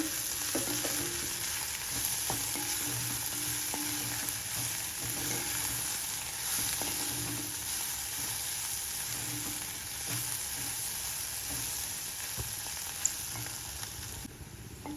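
Sprouts and green peas frying in a pan with spices, a steady crackling sizzle with occasional scraping stirs and light clinks, close and continuous without voices.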